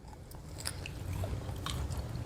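Crispy deep-fried pork belly, cooked in beef tallow and bitten at the fatty part, gives close, moist chewing and crunching for a couple of seconds, with no talking.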